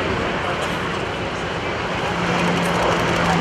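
A jet roars steadily during takeoff at the NAS Oceana airshow, a loud, broad rushing engine noise that holds strong and swells slightly toward the end.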